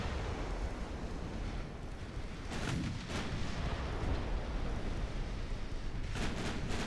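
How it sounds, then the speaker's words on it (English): Naval gunfire from 3-inch guns in a Dreadnought Improvement Project Japanese campaign battle, heard as dull booming shots over a constant sea-like rumble, with a pair of sharper reports near the middle and a cluster near the end. "3-inch guns should finish it off"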